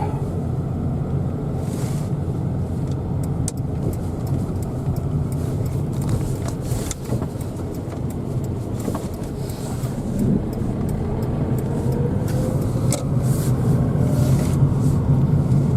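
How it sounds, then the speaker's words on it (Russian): A Lada Kalina pulls away and drives on: a steady low road rumble and engine hum from inside the car, with wind noise buffeting throughout. "Все, трогаемся, едем домой."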